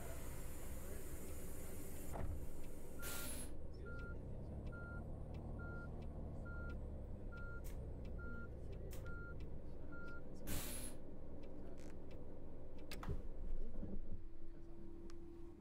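A coach's reversing alarm in the Fernbus Simulator game gives a regular series of short, evenly spaced beeps over a low engine rumble and hiss, with occasional sharp clicks and air-brake bursts.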